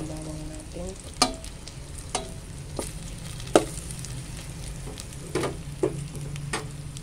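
Garlic browning in a pan for porridge gives a steady low sizzle, broken by several sharp clinks and scrapes from stirring, with no talk.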